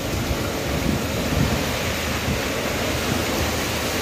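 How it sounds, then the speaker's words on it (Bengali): Heavy wind and rain lash the outdoors during an all-day storm with flooding, making a steady, dense roar of wind-driven rain that stays loud and even throughout. "বাইরে দেখো ব্যাপক পরিমাণে হাওয়া দিচ্ছে আর বৃষ্টি হচ্ছে"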